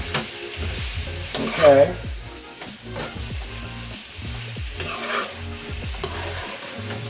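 Chicken and vegetable stir fry with peppers, onions, celery and red pepper flakes sizzles steadily in a pan, with stirring scrapes and a brief louder hiss midway; one short spoken word is heard.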